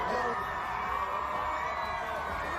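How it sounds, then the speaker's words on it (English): A crowd screams and cheers at a concert performance at SeaWorld, a steady wash of whoops and shouting voices that holds at a constant level throughout. "Oh, look, they got the crowd screaming."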